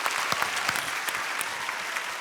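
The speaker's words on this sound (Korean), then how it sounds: "박수 한번 주시죠" A studio audience at a Korean TV broadcast claps in a brisk, full burst of applause close by, dense and steady throughout.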